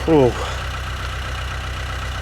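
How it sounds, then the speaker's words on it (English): A damaged narrowboat engine idles steadily after running for about forty minutes, a low even mechanical drone close by and continuous throughout, with a brief tonal sound near the start. "Engine's been running now"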